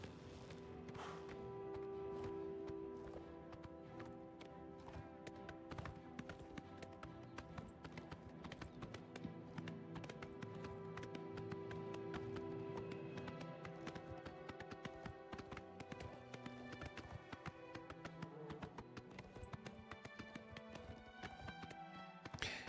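Rhythmic clip-clop of horse hooves at a gallop in the video game Oblivion, steady and close, layered over a continuous tonal music bed for the full stretch.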